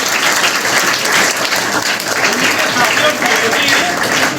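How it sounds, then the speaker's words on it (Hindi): Loud, continuous applause from an audience welcoming a press guest at a road safety awareness event in a school hall, dense clapping sustained for several seconds with a voice faintly beneath it. "इनके लिए जोरदार तालियां बजाइए"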